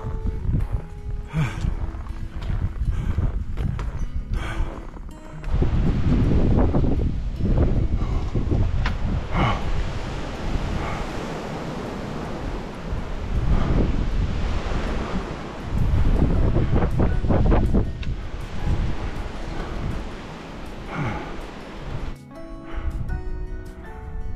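Strong mountain wind roars steadily across the snowy Cheonwangbong summit of Jirisan in winter, a loud, continuous rush of gusts buffeting the microphone with no voices.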